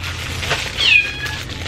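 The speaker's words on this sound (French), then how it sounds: "il miaule de même pour rien" A house cat gives a single clear, drawn-out meow close by indoors, rising and then falling, over a low steady background hum.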